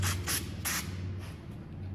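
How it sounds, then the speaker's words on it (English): Carburetor cleaner sprayed from a can through a small carburetor jet during cleaning, heard as several short pressurized hissing bursts close up over a steady low hum. "You can use your fingers to pinch it and give it a good squirt, and you'll see some come right out the backside of this jet."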